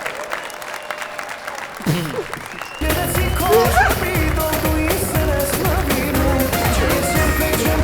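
Studio audience on a TV show applauding, with loud, dense clapping that swells after a quieter start and continues steadily, while music and voices sound underneath.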